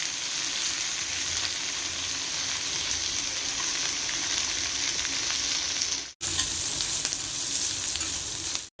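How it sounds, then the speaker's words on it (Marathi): Loud, continuous sizzling of sliced onions frying in hot oil for misal pav, a dense crackling hiss with a brief cut partway through. "इथे दोन उभे चिरलेले कांदा घेऊया चांगले भाजून घेऊया"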